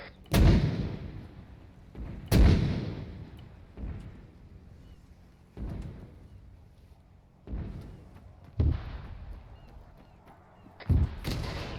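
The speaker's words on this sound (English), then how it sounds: "Still sending out mortar fire missions" Mortar rounds firing in ArmA 3, about six heavy booming thumps at uneven intervals of roughly two seconds, each with a rumbling tail that fades before the next, loud and fairly close.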